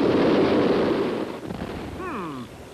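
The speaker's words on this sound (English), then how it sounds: "When I give the word, you light the fuse, and it's kablooey, Tom Slick" Cartoon explosion set off after a fuse is lit, a big rumbling blast that decays into noisy debris, followed by whistling, swooping effects near the end.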